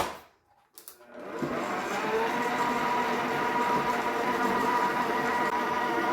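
An electric mixer kicks on after a brief quiet moment and whirs steadily and loudly through oatmeal raisin pecan cookie dough with oats and raisins.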